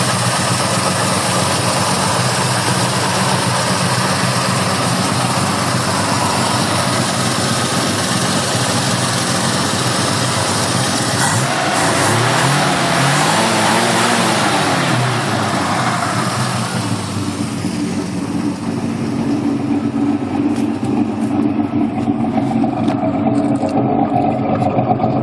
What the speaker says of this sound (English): Straight six. Sound like a beast, don't it?